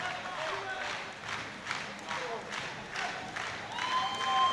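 A crowd applauds and cheers at a powerlifting competition, world championship meet, with dense clapping rising and falling in waves and voices mixed in the noise.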